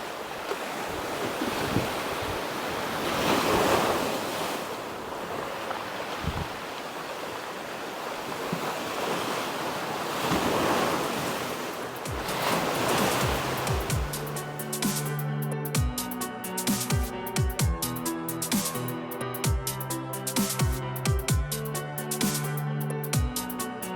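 Small ocean waves rolling onto a rocky Puerto Rico beach, rising in soft surging washes every few seconds amid wind buffeting, with music coming in over the surf for the second half.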